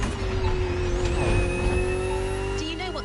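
A BMW Z roadster driven in The Crew Motorfest, its engine holding a steady whining drone with tire noise and a short squeal near the end, heard under a speaking voice.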